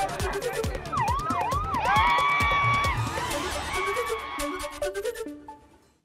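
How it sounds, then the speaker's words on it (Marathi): A police-style siren wails and sweeps repeatedly at a street gathering in Kolhapur where young people dance, loud over a busy crowd and rhythmic thumping, fading toward the end. "कोल्हापुरात काही तरुणांचा सायरनच्या आवाजावर जोरदार डान्स."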